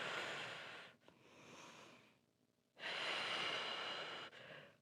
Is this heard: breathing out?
yes